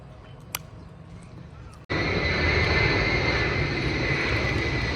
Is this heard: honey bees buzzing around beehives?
no